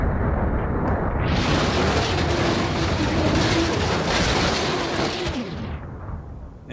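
A truck smashing apart in a BeamNG.drive crash, a loud sustained roar of crunching, grinding impact noise that swells, holds for several seconds, then fades.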